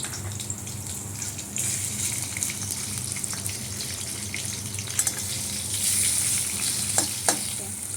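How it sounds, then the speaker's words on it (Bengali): Shrimp frying in a wok with dried red chillies, nigella seeds and green chillies, a loud, close, continuous sizzle with occasional scraping stirs and clinks toward the end. "চিংড়ি মাছগুলো ছেড়ে দিলাম।"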